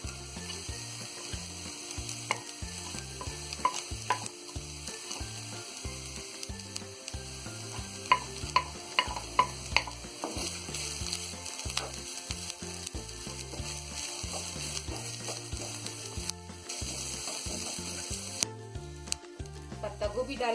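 Shredded cabbage and spring onion stir-fried on a gas stove for Chinese bhel: a continuous close sizzle broken by frequent clinks and scrapes of a spoon stirring in the pan.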